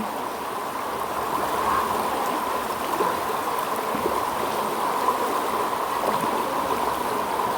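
A strong stream current rushing through a cave after rain: a steady, broad watery roar at moderate distance, continuous and even throughout, with no voices.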